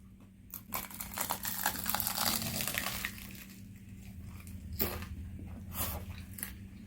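Crunchy bites and chewing of a cooled McDonald's corn pie, close to the mic, with crackling crumbs and a few sharp crunches.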